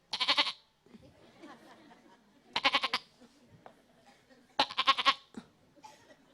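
A goat bleats three times, loud and close, with wavering cries spaced about two seconds apart and quieter rustling and murmurs between them.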